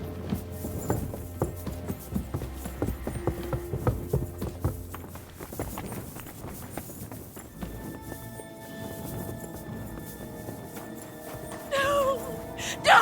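Horse hooves clip-clop in a steady walking rhythm with a brief neigh in the medieval game Kingdom Come Deliverance 2, set under soft ambient game music with a faint voice now and then.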